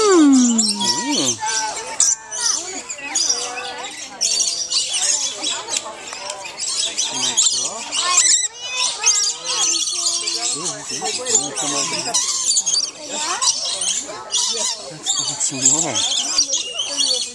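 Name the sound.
wild birds calling at a feeder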